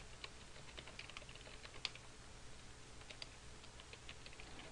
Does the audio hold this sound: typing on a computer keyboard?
yes